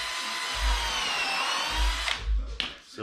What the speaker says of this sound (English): I am doing pre-drilling holes just because it's a 3-inch screw that's going in there.